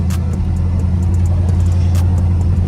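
A Box Chevy Chevrolet car drives down the road, its engine a loud, close, steady low rumble heard from inside the cabin, with light rattles and no talking.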